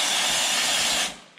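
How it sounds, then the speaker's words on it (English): Expanding spray foam is released from a can during a pole barn conversion, giving one continuous, close, loud hiss lasting about a second before it cuts off, with no voices. "Let's spray a little more."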